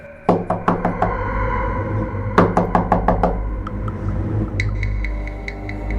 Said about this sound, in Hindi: अचानक दरवाजा खटखटाने की आवाज आई